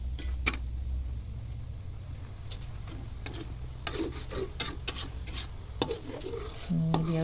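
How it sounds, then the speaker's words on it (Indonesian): Thickening coconut milk is stirred in a pan while making homemade coconut oil: a soft, steady bubbling sizzle with irregular scraping and knocking of the spoon, close and fairly quiet. "Ini dia udah mulai mengental, kita aduk-aduk terus."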